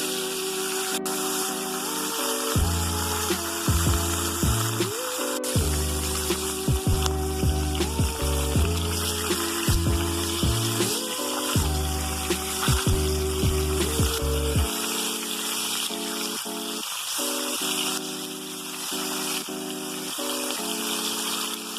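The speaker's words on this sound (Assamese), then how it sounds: "গৰম হৈ গ'ল তেল, এতিয়া ইয়াত ফিছখিনি দি দিওঁ।" Fish fries in hot oil with a continuous bright sizzle and hiss. Loud tonal music plays over the sizzle.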